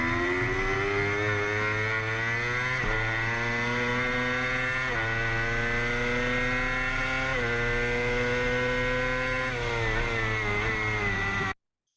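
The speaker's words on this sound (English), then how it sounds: "now the bike's pointed and we're ready to start driving" Racing motorcycle on the Ridge track accelerating hard, its high-revving engine climbing steadily with sharp upshifts every couple of seconds, loud and close throughout with no talk.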